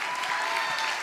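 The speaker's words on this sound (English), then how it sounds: "Can you give our team a round of applause?" A live audience gives a round of applause for a team of volunteers, a steady dense wash of clapping that fills the whole brief moment.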